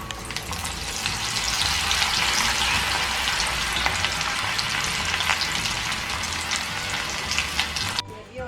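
Nimko mix ingredients deep-frying in hot oil, a dense, steady crackling sizzle that holds loud and close throughout before cutting off abruptly near the end.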